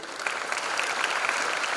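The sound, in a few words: applause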